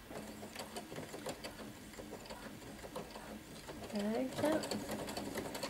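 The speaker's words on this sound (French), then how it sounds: "Donc là, j'arrive sur la fin et je fais un point d'arrêt." A domestic sewing machine topstitches and backstitches the facing of a skirt, its rapid needle rattle running steadily, then shifting pitch as it reverses for a lockstitch. Someone speaks briefly in French over it.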